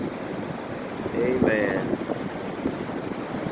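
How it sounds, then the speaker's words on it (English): Ocean waves wash ashore at Daytona Beach in a steady broadband surf roar with wind buffeting the microphone, while a person speaks briefly over it near the middle. "See more of the waves off in the distance."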